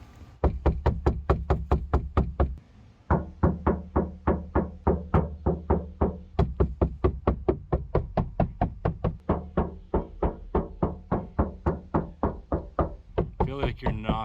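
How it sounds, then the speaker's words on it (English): Rapid repeated knocking on a hard interior surface, about three or four strikes per second sustained for roughly fourteen seconds, loud and close, with one brief pause near the start. "I feel like you're knocking like 30 times harder."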